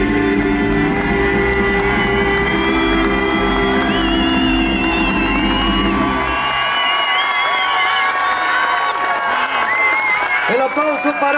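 Audience applause and cheering at a Chilean spring festival singing contest in Algarrobo, rising as a performance of a classic song ends, with crowd noise and shouts over fading music.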